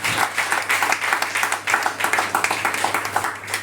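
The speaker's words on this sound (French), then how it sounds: "Acclamons la puissance de Jésus." A church congregation breaks into lively applause, many hands clapping in a dense, rhythmic wave that carries on steadily through the whole stretch, with a faint low hum beneath.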